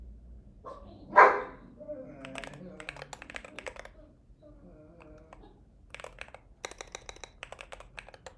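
A dog barks loudly once as someone comes to the front door, followed by a few fainter yips, while computer keyboard keys clatter in bursts.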